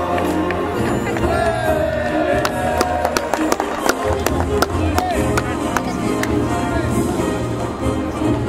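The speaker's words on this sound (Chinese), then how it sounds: "掌声来欢迎总教练瑞拉佛" A stadium crowd cheers, whoops and claps as a baseball team's head coach is introduced before a third-place game, a dense, steady roar with scattered sharp claps running for the whole stretch.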